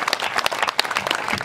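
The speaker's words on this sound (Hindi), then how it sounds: "जरा एक बार बड़ी वाली तालियां आजादी भाई साहब के लिए बजा दी जाए" Audience applause at a Hindi comic poetry show, a dense burst of many hands clapping at close range that fills the whole moment with no voices over it.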